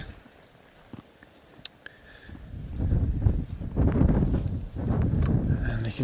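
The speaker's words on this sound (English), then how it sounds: "you can probably hear the wind's a little bit gusty today." Low, rumbling gusts of wind buffet the microphone on a riverbank, starting quiet with a few faint ticks, then swelling into strong, uneven blasts that come and go.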